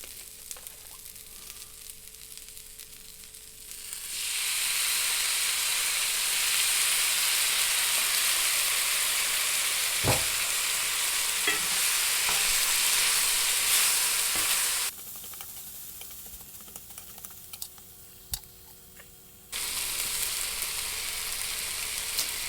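Teriyaki sauce is poured onto broccoli in a hot cast iron pan, setting off a loud, steady sizzle that runs for about ten seconds, drops off briefly, then surges again, close up with no talking.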